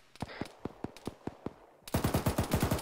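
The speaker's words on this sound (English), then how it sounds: "They should have audio on that machine gun and know it's just to their left." Machine gun fire in Arma 3: separated single shots, then a rapid sustained burst near the end, loud and close with sharp reports, no talk over it.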